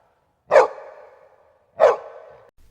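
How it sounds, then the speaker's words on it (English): A dog barks twice, each bark sharp and close with a short ringing tail, spaced just over a second apart against silence. "Dog? Wow,"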